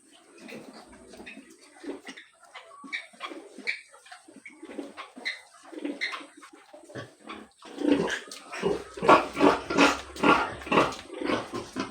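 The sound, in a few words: sow and newborn piglets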